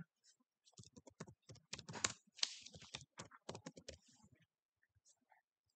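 Fingers type a name on a computer keyboard at close range, giving rapid, irregular bursts of crisp key clicks with short pauses between words.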